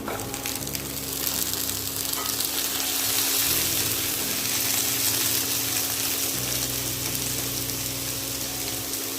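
Onions frying in butter in a pan give a steady, loud, close sizzle with a crackling hiss that continues evenly throughout.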